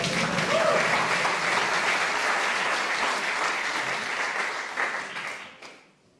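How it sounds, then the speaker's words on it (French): Audience applause for a police puppet act on a French variety show, a full, sustained round of clapping from a crowd that holds steady and then tapers off to silence at the end. "je vous demande un tonnerre d'applaudissements pour la marionnette de la police nationale"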